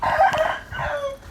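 A rooster crows once, loud and close, in a single drawn-out call that wavers in pitch and tails off with no one talking.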